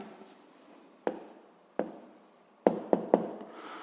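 A pen writes an answer by hand on paper, with a few faint scratches followed by several sharp taps close by, all in a quiet room.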